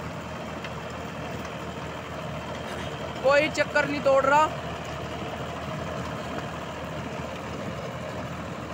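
A 2008-09 Farmtrac 65 EPI tractor engine runs steadily at 2200 RPM, a continuous low rumbling drone heard up close, with someone speaking briefly over it midway.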